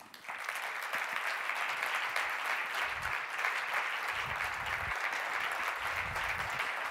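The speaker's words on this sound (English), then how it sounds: "You don't want to clap too hard at the beginning" Steady audience applause fills a keynote hall at a music education event at the NAMM Show, a dense, even wash of clapping that rises quickly and holds loud throughout with no voices over it.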